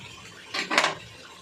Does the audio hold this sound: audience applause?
no